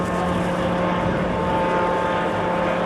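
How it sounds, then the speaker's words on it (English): An Optica light aircraft at the 1992 Farnborough Airshow passes with a steady, fairly quiet propeller drone and a faint engine hum, holding even throughout with no voices. "Optica has a particularly low external noise signature and a very low internal one"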